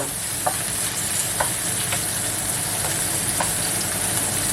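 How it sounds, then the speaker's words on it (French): Onion and meat stuffing with lots of vegetables sizzle and fry steadily in a pan, a constant hiss broken by a few soft spoon taps as it is stirred. "on fait revenir un peu l'oignon"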